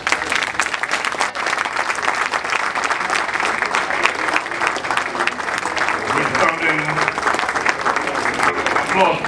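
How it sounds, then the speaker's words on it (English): Audience applause at a political speaking event, with steady, dense clapping from a large crowd that holds at an even level throughout and has no clear speech over it. "Applause, please."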